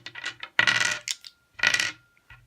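Three dice are rolled in a tabletop board game, making sharp clattering bursts on a hard surface with short pauses between rolls, close and fairly loud, no voices.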